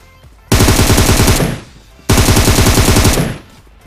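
Two loud, sustained bursts of rapid automatic gunfire, each lasting about a second, separated by a brief pause, with a video-game sound.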